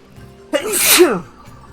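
A single sharp human sneeze, close and loud, rising from a brief intake into a bright burst that fades quickly against a quiet background.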